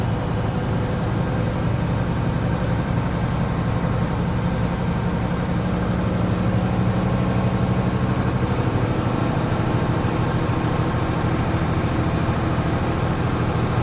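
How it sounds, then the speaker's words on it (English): A truck engine idling steadily after a restart during a pre-trip inspection as air pressure builds, a continuous low diesel drone with no breaks and no talk. "we've restarted the engine. We're going to build our pressure up, and it should build from 85 to 100 psi in 45 seconds"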